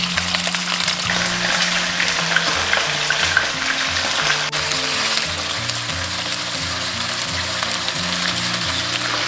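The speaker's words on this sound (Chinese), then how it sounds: "煎鸡肉的时候尽量皮朝下" Chicken pieces pan-frying skin side down in oil over medium heat for three-cup chicken, giving a loud, steady sizzle and crackle that runs unbroken throughout.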